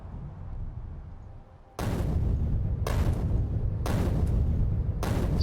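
Upgraded grenades explode in Factorio, four heavy booms spaced roughly a second apart, each cutting in sharply over a low rumbling background and staying loud.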